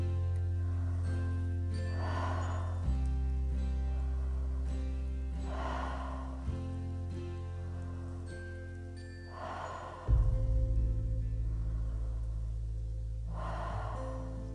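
Slow, audible breaths during a guided meditation rise and fade about every four seconds, soft and close, over a quiet sustained ambient music drone with no speech.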